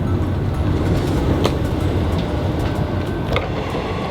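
A local train running from Singapore to Kuala Lumpur, heard from inside as a steady low rumble with rhythmic clicks of the wheels over the rail joints.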